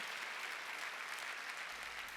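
A church congregation claps together during Sunday worship. The applause is steady and continuous, moderately distant and even in level throughout, with no voices over it.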